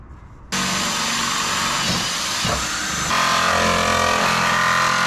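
A loud, steady power-tool whine starts abruptly after a brief pause and runs continuously, shifting slightly in pitch partway through, like a drill boring in close.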